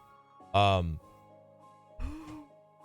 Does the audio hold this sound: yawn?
yes